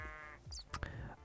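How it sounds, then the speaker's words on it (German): A magic sheep in the Minecraft Twilight Forest mod gives a short bleat in the middle of the clip, heard faintly against a quiet, hushed voice and steady game background. "Und zwar habe ich da was gefunden, und zwar das magische Schaf."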